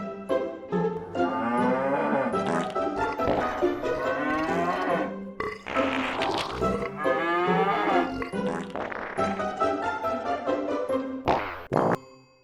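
Cows mooing, several long, drawn-out bellows one after another, loud and close, with brief pauses between calls and a short final low.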